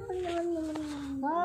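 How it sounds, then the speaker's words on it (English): A neighbor's cat lets out a long, drawn-out meow, close and fairly quiet, during a squabble with another cat, with a short rising yowl at the end. "this is my neighbor cat"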